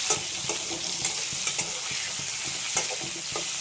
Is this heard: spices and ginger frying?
yes